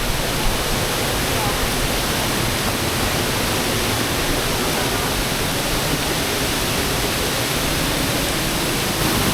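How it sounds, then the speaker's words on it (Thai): A steady, dense roar of rushing water, constant and loud throughout with no breaks, like standing near a waterfall. "เราใกล้ถึงน้ำตกนาคีแล้วครับ"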